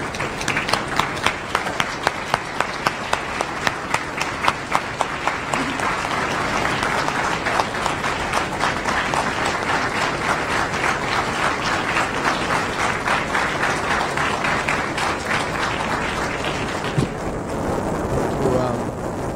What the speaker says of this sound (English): please join me in expressing your appreciation to the Prime Minister of Barbados by giving her a hearty Howard applause